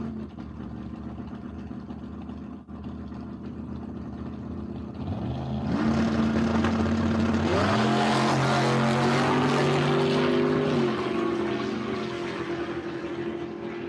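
Drag racing at Empire Dragway: a B crate motor Nova and a Chevelle launch side by side, a loud engine drone building to a roaring full-throttle rise with shifting pitch steps as the cars pull away.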